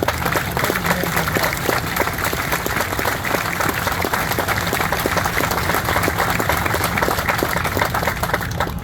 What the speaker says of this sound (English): So a round of applause to all the families.